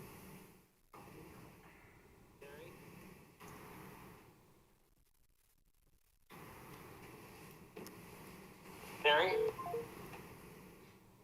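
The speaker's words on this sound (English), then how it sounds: "maybe someone can call them on their cell phone and put it on speaker so everybody can hear his vote in response" A cell phone on speaker during a city council meeting gives faint dialing and call tones, with a brief louder tonal burst near the end, under room noise and intermittent talk.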